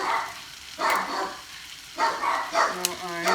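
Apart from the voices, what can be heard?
dogs barking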